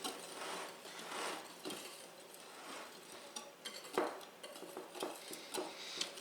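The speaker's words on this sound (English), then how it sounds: "And then just give this a good whisk." A whisk scrapes and clinks around a bowl of dry cookie ingredients such as flour, baking powder and baking soda, making a steady rhythmic swishing with light metallic taps, close and fairly quiet.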